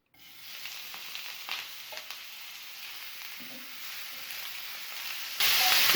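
About 250 grams of cut chicken cooks in a tablespoon of oil in a pan, giving a faint, soft sizzle with occasional stirring scrapes, then a sudden louder hiss near the end.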